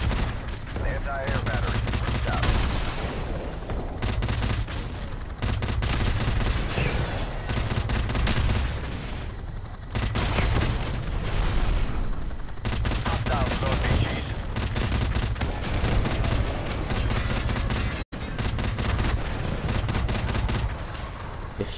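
Sustained, dense gunfire from a Call of Duty 4: Modern Warfare Remastered campaign battle against infantry, with rapid overlapping shots and bursts that roll on loudly almost without pause, broken only by a brief cut near the end.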